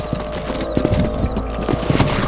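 Horses trot along in the Red Dead Redemption western video game, their hooves clip-clopping in a quick, uneven rhythm, close and fairly loud against a low background rumble, with no talking.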